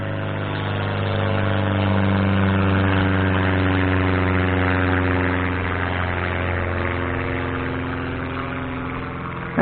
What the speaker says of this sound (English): That's got a Volkswagen, like 2200 cc stroker, big bore.